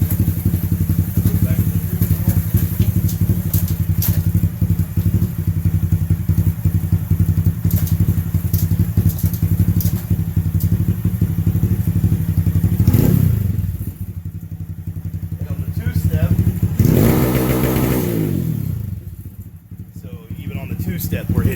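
A Honda Grom motorcycle tuned for E85 fuel holds a loud, buzzing two-step rev limit for about thirteen seconds, drops to idle, then rips through another short burst of revs before settling, close up throughout.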